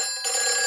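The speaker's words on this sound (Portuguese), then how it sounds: "Peppa, esse é o telefone do bombeiro." A fire station telephone rings in a Peppa Pig cartoon, a bright, steady electronic tone that is loud and close, starting suddenly partway in and sustaining with no talk over it.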